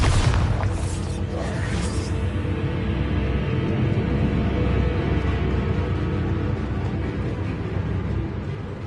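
A Bombarda spell explodes in Hogwarts Legacy with a loud, close boom and a crackling burst in the first two seconds, then a long, rumbling tail fades slowly into the background.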